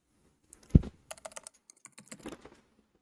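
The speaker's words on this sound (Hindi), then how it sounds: "2 लिख के एंटर कर देंगे।" Keys on a Dell Chromebook 11-3180 laptop keyboard are tapped, a 2 followed by Enter, as a short run of sharp, close plastic clicks with one louder press near the start.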